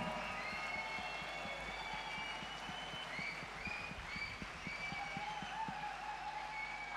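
The Europride crowd in Zurich gives a big round of applause, steady dense clapping that carries on throughout with faint cheering mixed in.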